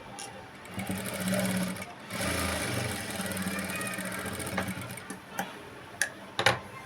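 Sewing machine slowly stitching the neck of a work blouse, a soft mechanical whir with rhythmic ticking, fairly quiet, ending in a few sharper clicks.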